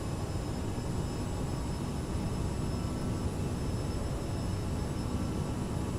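A CRJ-900 arriving in Microsoft Flight Simulator gives off a loud, continuous, broadband engine and airflow roar with a faint steady whine on top, unbroken and even from start to finish.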